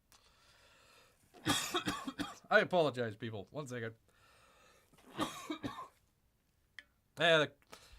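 A few sharp coughs come through between bursts of close talking, with a short coughing fit near the end, brought on by laughter.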